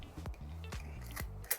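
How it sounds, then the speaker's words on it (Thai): Mechanical clicks from a Rolleicord twin-lens film camera as its shutter is cocked and fired, several sharp close clicks and ratchet snaps in a quick repeating rhythm, with no voices. "ขึ้นชัตเตอร์ กดชัตเตอร์"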